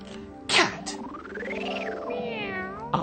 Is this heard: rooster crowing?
no